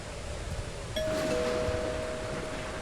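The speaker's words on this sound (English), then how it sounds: "The doorbell again." A doorbell chimes once in the horror video game Suffer The Night, a clear sustained tone ringing out over a steady, noisy background with no talk.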